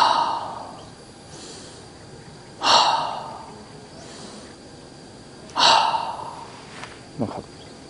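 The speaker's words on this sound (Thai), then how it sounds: "หายใจเข้าจมูกผ่อนออกปาก3ครั้ง" Slow breaths during a yoga session: a few audible breathing sounds, in through the nose and out through the mouth, each a soft rush spaced a few seconds apart with quiet pauses between.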